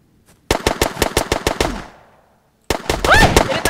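Automatic gunfire in the Hurtworld survival video game, two loud rapid bursts of closely spaced shots separated by a short pause, with brief talk at the end.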